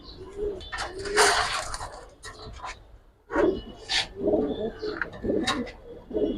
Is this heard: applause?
no